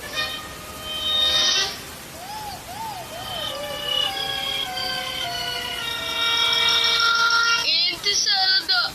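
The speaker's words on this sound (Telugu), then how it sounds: "నల్ల మేక పిల్ల అంతే" A black baby goat bleats in a series of high, wavering calls, some rising and falling, with a longer trembling cry near the end and faint background noise.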